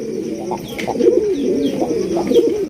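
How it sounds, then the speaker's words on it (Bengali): Pigeons, including a white Chinese owl pigeon, coo in repeated soft, throaty bursts at a pigeon market, several overlapping calls close by with a steady low murmur between them. "এখানে রয়েছে একটা চাইনিজ আউল কবুতর হোয়াইট কালার মধ্যে"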